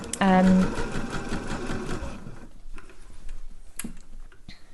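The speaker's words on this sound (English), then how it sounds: "if you're basting, and by basting it's a straight stitch, a long straight stitch, just an easy one to kind of keep things in place" A sewing machine runs a long straight basting stitch on jersey fabric, a loud, fast mechanical whir for about two seconds that stops abruptly, followed by quieter handling clicks.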